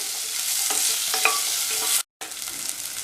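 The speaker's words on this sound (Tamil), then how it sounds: "இப்போ 1/4 டீஸ்பூன் பெருங்காய பவுடர், சின்னதாக கட் பண்ண உருளைக்கிழங்கு. இது எல்லாமே நல்லா வதங்கட்டும்." Diced potatoes and asafoetida sauté in a pan for sambar with a steady, bright sizzle and a few stirring scrapes, broken by a brief cut to silence before the hiss resumes.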